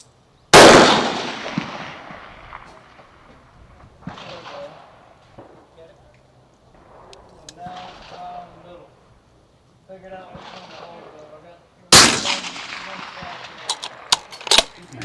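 Two sharp rifle shots crack loudly at a long-distance shooting range, one at the start and one later, with quieter handling noises and talk between them.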